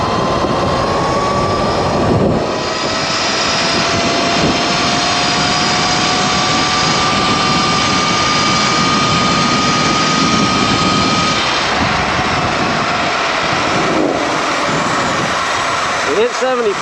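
A Sur Ron 72V electric bike speeds up on a top-speed run with a loud, steady rush of wind and a rising motor whine running throughout, while a rider's voice is heard at times.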